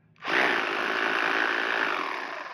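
A cordless rotary hammer drill starts abruptly and runs at a loud, steady whine with a gritty edge, holding nearly even for over two seconds before easing slightly.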